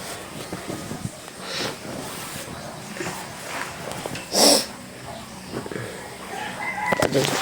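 Chickens clucking nearby with a rooster crowing loudly partway through, over a noisy outdoor background.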